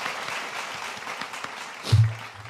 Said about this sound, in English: We need the claps.